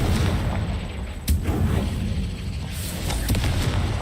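A Confringo explosive fire spell in Hogwarts Legacy blasts over constant dense game noise, with a sharp burst near the middle and another toward the end.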